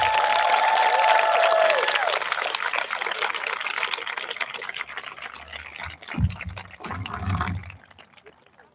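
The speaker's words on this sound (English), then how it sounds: "Ms. Otis, why don't you stand up and receive your well-deserved round of applause." A graduation ceremony audience at a charter school claps in a sustained round of applause for an honored staff member, dense at first and thinning out, with voices and cheers mixed in.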